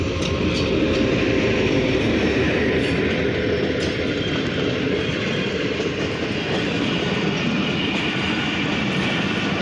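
An HGMU 30 diesel locomotive leads an express train through Kot Lakhpat station, making a loud, continuous rumble with steady wheel clatter that lasts the whole stretch, with no voices.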